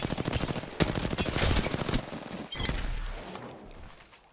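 Rapid automatic gunfire in a ranked video game match, loud bursts of closely spaced shots with a sharper crack midway, followed by more scattered firing that fades out.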